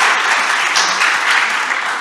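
Audience applause at a women's conference event, a steady dense wash of clapping filling the whole stretch at even loudness with no voices over it.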